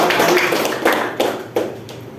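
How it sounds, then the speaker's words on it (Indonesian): Classroom students clapping for a group after a presentation, a few loud bursts of claps close by, fading and then returning in short separate rounds. "kasih tepuk tangan untuk kelompok itu"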